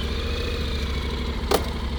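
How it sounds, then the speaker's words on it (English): A Honda X-ADV 750 scooter idles at low RPM, giving a steady, even low rumble that holds constant from start to finish, with one short sharp click near the end. "in the lower RPMs and when you just start it up, it does have a nice basic rumble to it"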